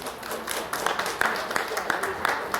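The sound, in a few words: audience applause for tournament anglers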